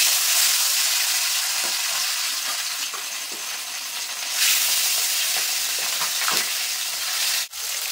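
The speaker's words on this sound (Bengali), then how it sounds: "এবার মাছগুলো ভেজে নেবো।" Pieces of folui fish drop into hot oil in a wok and set off a loud, dense, steady sizzle that swells slightly midway and briefly dips near the end, with no talk over it.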